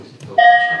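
Coruche church bell, virtually reconstructed, struck slightly higher up than before, giving one fresh strike that rings out and sustains with bright overtones midway through, near and clear.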